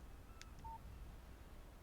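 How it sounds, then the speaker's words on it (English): Phone text message alert in the video game Alan Wake: a short, faint electronic chirp and a brief clean tone over a low steady hum, no voices. "Text message from Barry."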